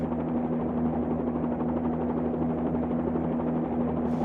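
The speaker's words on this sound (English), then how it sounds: "I'm going to try to keep the helicopter above the helipad and then try for a soft landing" Bell 47-2G helicopter engine in a flight simulator game, a loud, steady droning hum with constant rotor buzz that holds unchanged throughout, with no talk.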